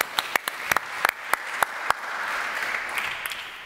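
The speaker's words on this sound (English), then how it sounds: "The loudest applause from our Estonian friends there." Applause from a conference audience at a session on low-carbon development, opening with a few sharp, separate claps that blend into a soft, sustained patter of many hands further back in the room.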